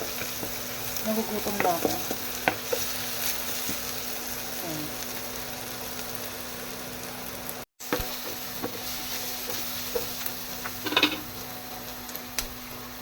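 Onion and garlic sauté in a home kitchen pan, a steady soft sizzle running through the whole stretch with occasional stirring clinks, while a voice briefly speaks over it.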